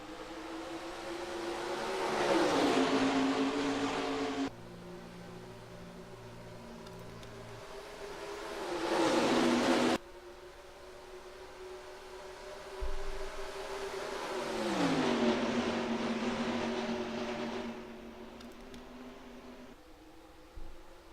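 Pickup racing trucks in NASCAR Racing 2003 at Rockingham, engines surging and revving through the gears in repeated rising sweeps as they accelerate from the green flag, moderately loud and continuous.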